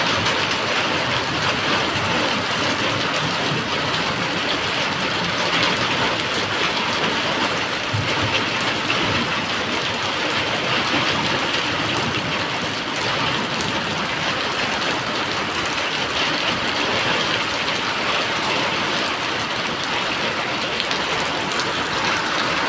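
Steady heavy rain drumming on a surface during a thunderstorm with hail, a dense even hiss that holds for over twenty seconds without any speech.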